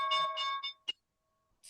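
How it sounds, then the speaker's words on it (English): Stock market opening bell rings at the start of a trading session: a few bright, sustained metallic tones that decay and fade, then a brief higher tone near the end, with no talk. "There's the bell."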